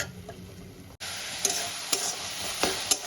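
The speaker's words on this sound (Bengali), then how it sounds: "মশলাটাকে আমি ভালো করে ভেজে নিচ্ছি" Spice paste with tomato and garlic sizzles and fries in a pan while a spoon stirs it, with a few sharp scraping knocks over a steady hiss.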